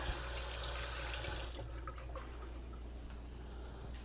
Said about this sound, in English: Always wash your mitts.